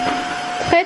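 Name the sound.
wet floor vacuum cleaner running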